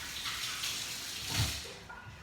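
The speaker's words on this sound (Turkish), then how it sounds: "Ellerimi yıkadım." Hands rinsed under running tap water at a kitchen sink while making homemade sucuk, a soft steady splashing stream heard close and fairly quiet.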